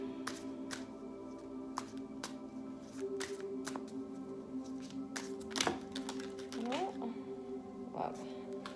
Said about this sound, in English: What is going on with my shuffling?